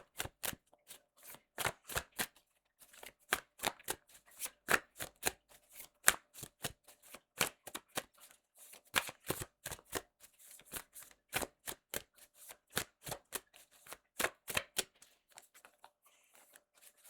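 A deck of vocabulary flash cards is shuffled over and over, giving quiet, crisp bursts of riffling clicks in an irregular rhythm with short pauses between them and no talk.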